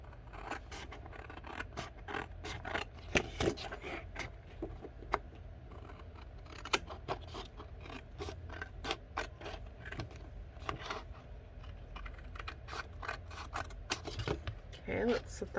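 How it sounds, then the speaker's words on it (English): Scissors trimming paper for a journal page: a long run of crisp, repeated snipping and scraping cuts, close and irregular in rhythm, over a quiet background. "I'm going to go ahead and trim it out"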